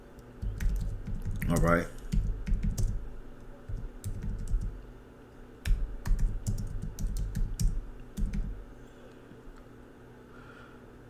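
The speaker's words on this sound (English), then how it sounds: "let me type that in." Computer keyboard typing in quick bursts of clicks and clacks, close and moderately loud, with brief pauses, while someone speaks briefly at the start.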